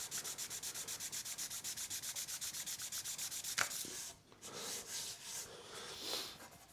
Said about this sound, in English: hopefully we can sand past them